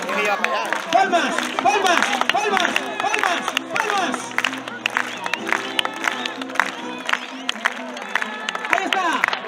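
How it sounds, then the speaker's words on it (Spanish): A crowd at a bullfighting show claps in quick rhythmic unison, loud and close, with cheering and murmuring mixed in and an announcer talking over it. "¡Palmas!"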